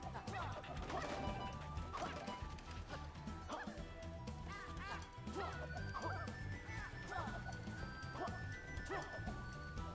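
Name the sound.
dog barking in the streamer's room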